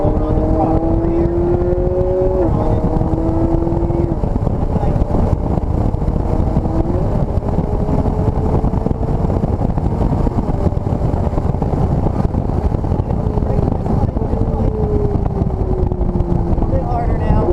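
A vehicle engine revs and pulls steadily as it accelerates through a bend on a track, a loud continuous drone rising and falling in pitch, with an instructor talking over it.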